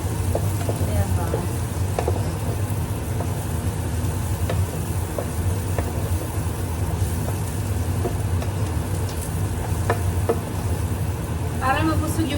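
Onion and garlic frying in a pan for a budget spaghetti, a steady broadband sizzle with occasional clinks of a utensil, a voice speaking briefly over it.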